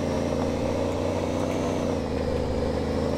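The engine of a heavy truck in a physics-based trucking game holds a steady, loud drone at constant revs throughout, with a low hum and no talk over it.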